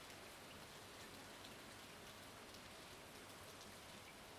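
Steady rain falling in the Stardew Valley video game, an even, continuous patter of drops at low level without any break, with no voices over it.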